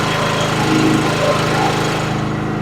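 A 2.8 kW petrol generator runs steadily and loudly close by, a constant droning engine hum with a rough mechanical buzz and no break across the short stretch.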